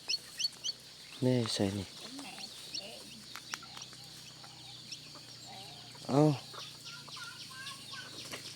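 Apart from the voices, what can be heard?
chickens clucking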